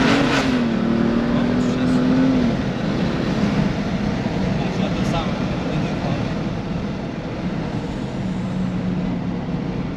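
A tuned BMW M235i with a turbo, accelerating under load from inside the car, a dense, steady engine roar with a rising tone early on and a voice talking over it.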